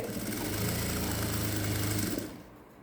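A sewing machine stitches a blouse lining in one continuous loud, close run with a dense mechanical whir, stopping near the end.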